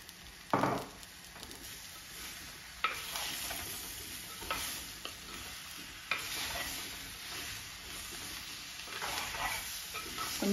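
Tomatoes fry and sizzle in a pan for a dried fish and brinjal curry, a steady hiss with occasional scraping stirs of a spoon, close up and alone without talk.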